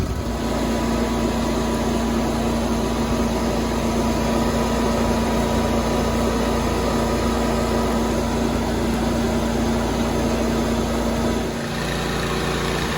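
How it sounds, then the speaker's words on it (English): A Toro 1750 sprayer's engine held at full revs, a loud, steady, unbroken drone with a constant tonal hum that dips briefly near the end. "we're going to get the sprayer up to full rev and then lock it in"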